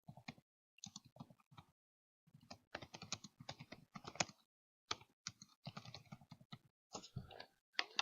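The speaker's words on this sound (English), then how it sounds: "I'm just typing in PG&E residential energy changes." Close-up typing on a computer keyboard: quick bursts of clicking keys separated by short pauses, fairly quiet and crisp.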